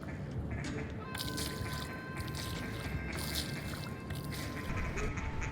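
Ducks quack steadily across a flooded timber hole during an Arkansas duck hunt, a dense chorus of calls with broad wind-like noise, constant and fairly loud throughout.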